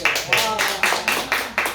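Audience clapping in rhythm at a Korean church-style talk, several claps in even succession at moderate loudness, with a voice singing or speaking over them.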